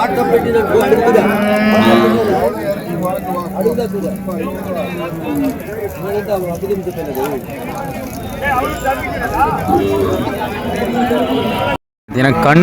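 Cattle moo nearby at a cattle market with many HF calves, long low bellows rising over steady talking and background farm noise.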